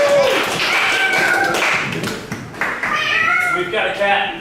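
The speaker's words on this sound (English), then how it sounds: "We've got a cat." A cat meow rises over an audience's applause and chatter in a small theatre during a live improv comedy show, with a performer talking loudly throughout.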